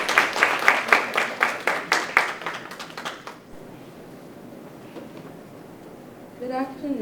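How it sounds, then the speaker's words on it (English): A ceremony audience at a racial justice essay and creative arts awards event applauds a student, a thin set of distinct handclaps in a steady rhythm fading out, followed by quiet room tone and a voice starting to speak. "Please give Angelina a round of applause."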